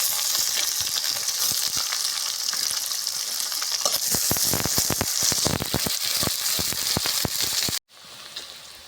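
Chopped big onions and green chillies sizzle loudly and steadily in a hot pan, with scraping stirs breaking through the hiss before the sound cuts off abruptly near the end.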